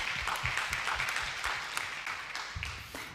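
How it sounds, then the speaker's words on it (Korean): A church congregation claps during a Sunday worship service to welcome new members, soft, steady applause with distinct individual claps running the whole time. "우리 박수로 좀 환영했으면 좋겠습니다"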